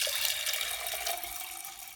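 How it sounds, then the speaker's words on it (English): Water poured over dry black beans in a bush pot outdoors, a steady close rushing splash of liquid filling the pot for about two seconds without pause or speech. "I'm going to cover these bad boys with water."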